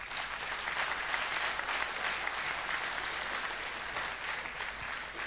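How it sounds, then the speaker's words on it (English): An audience claps steadily for a pair of dancers after a Salangai Pooja dance performance, a dense, even patter of many hands lasting throughout at a moderate distance. "Please give them a round of applause."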